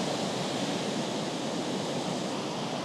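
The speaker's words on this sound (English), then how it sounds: "And look at these waves." Ocean waves breaking on a beachfront near Managua, Nicaragua, a continuous broad roar of surf that stays loud and steady throughout, with no voices.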